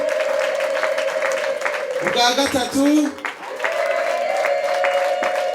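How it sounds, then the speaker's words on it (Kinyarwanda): Wedding guests clap in a thick, continuous burst of applause while a voice talks over the crowd, and a steady tone holds underneath throughout. "Imana amashyi tuyihimo ubugira gatatu."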